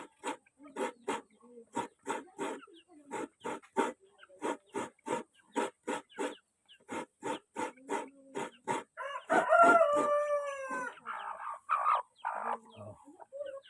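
Chickens clucking in rapid repeated bursts nearby, followed by a louder drawn-out squawk or crow, with some sharp calls at the end.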